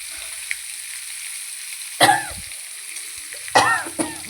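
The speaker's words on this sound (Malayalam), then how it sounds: "മത്തി നല്ലവണ്ണം പൊരിഞ്ഞു വരണം" Steady low sizzle of sardines frying in hot oil, with two louder bursts of spattering crackle partway through.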